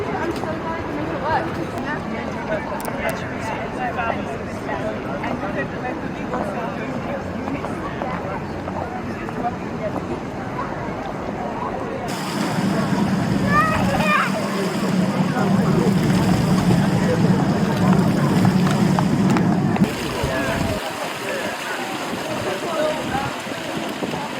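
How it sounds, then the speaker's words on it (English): A water feature at Kings Cross Railway Station in London splashes steadily, swelling louder midway beneath constant crowd chatter and people talking nearby. "And this is a rather nice water feature."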